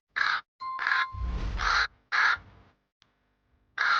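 Crow cawing in a Tamil children's cartoon, several loud, harsh caws in a broken rhythm with short pauses, close and clear, alone without talk.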